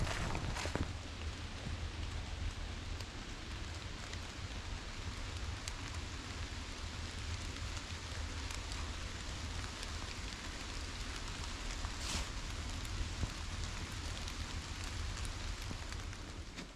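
Steady rain patters and hisses across the forest on the Rheinsteig hiking trail in Germany, a constant close wash of droplets with no talking.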